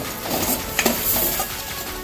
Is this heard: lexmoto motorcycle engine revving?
no